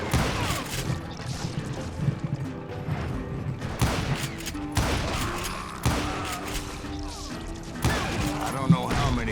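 Gunfire from the Western shooter video game Call of Juarez, sharp shots and crashes scattered through a busy game soundscape, with someone talking over the action.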